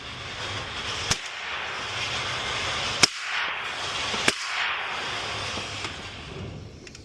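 Firearms are test fired outdoors, with three distinct sharp gunshot cracks spaced a second or two apart and a few fainter reports over steady background noise.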